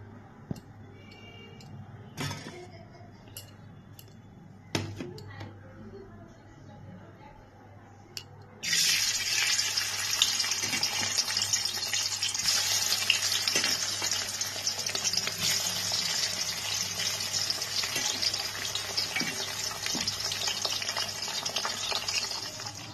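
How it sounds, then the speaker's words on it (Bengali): Chanda fish frying in hot mustard oil in a kadai, a loud steady sizzle that bursts in suddenly after quieter clinks and ticks, then continues close and unbroken with no talk. "প্রথমে আমি মাছগুলোকে ভেজে নিচ্ছি।"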